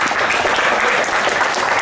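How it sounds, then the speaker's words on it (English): A school assembly audience of class 9 students and teachers applauds in a dense, steady burst of clapping that stays loud and even from start to finish, with no pauses. "A big round of applause"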